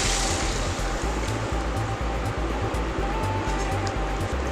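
Water goes into a hot pan of sautéed vegetables and Maggi tastemaker, making a loud, continuous rushing splash with low pulsing beats beneath it, close by.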